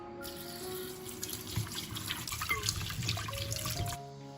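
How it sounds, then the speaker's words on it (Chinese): Tap water runs steadily into a sink as chopped pork ribs are rinsed, a close, continuous splashing and trickling with small knocks from handling the meat, fading out at the end. "我们就用清水多冲洗2遍，洗去血水"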